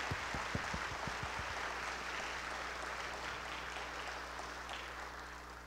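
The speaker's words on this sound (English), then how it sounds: "give a round of applause for our first responders, our police department, our fire department, and our people in uniform" Faint, distant audience applause for police, firefighters and other first responders at a gospel concert, a steady wash of clapping that swells briefly at the start and then holds evenly.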